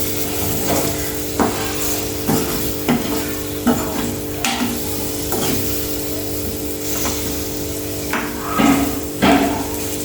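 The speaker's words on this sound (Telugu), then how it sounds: "ఇట్లా ఫ్రై చేసినాం కదా, ఈ ఆనియన్స్ అంతా పైన వేసేసుకుందాం" Onions stir-fried in a pan for an onion egg curry, with a continuous sizzle under repeated sharp scraping and tapping strokes of a spatula against the pan, close and fairly loud, no speech.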